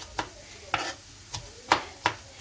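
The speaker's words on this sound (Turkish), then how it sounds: "Soğanla biberimi kavuruyorum." Onions and peppers sauté in a pan with about six brisk scraping stirs at a steady rhythm, close by, with no voices.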